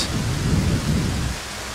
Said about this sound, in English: it's actually raining pretty well now. You can hear it pounding on our tent.